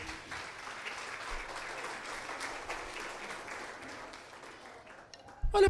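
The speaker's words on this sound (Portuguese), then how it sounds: "Ah, aplauda o Senhor Jesus." A church congregation applauding during a worship service, a broad continuous spread of many hands clapping at moderate level, tapering slightly toward the end before a brief louder burst.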